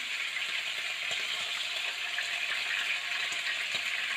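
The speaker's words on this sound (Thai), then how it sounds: "เพื่อนๆก็ทอดทอดให้ดูนะคะ" Fermented pork sausage (naem) frying in hot oil, a steady close sizzle with scattered small pops and crackles throughout.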